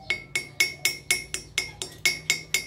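Chipping hammer knocking slag off a 3/32 E7018 stick weld bead, struck in about ten sharp, evenly spaced metallic clinks at close range with no talking.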